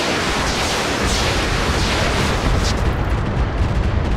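Missiles firing in a mech combat video game: a loud, dense roar of launches and blasts that fills the whole stretch, with no talking over it.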